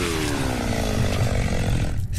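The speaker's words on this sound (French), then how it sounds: "Oh, la tronçonneuse!" A chainsaw roars in the video game Slayaway Camp, a loud continuous buzzing rasp over a dense rumble that holds steady before cutting off abruptly at the end.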